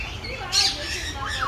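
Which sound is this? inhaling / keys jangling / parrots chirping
parrots chirping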